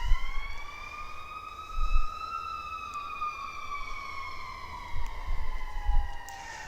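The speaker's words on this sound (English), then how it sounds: "Sorry for the sirens, y'all." Emergency vehicle sirens wail past outside an RV dealership, a steady rising and falling tone that stays prominent throughout, with low rumbling traffic bumps underneath.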